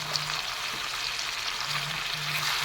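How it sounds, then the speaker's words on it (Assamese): Ground turmeric, coriander and cumin sizzle in hot oil for a chicken curry, a steady crackling fry close up with a few scrapes of stirring and a faint low hum underneath, no voices. "এইখিনিও তলফৰ কৰি এনেদৰে লৰাই দিম।"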